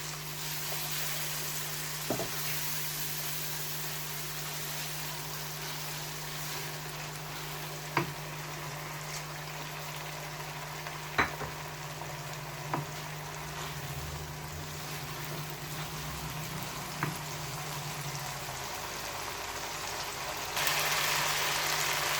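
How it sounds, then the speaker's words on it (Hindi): Chicken liver (kaleji) frying in a spiced masala in a home kitchen: a steady, even sizzle with a low hum underneath and a few sharp clicks and pops, continuing without talk until it eases near the end. "इसमें जो है वो कलेजी डालेंगे और उसको फिर अच्छे तरीके से हम फ्राई करेंगे।"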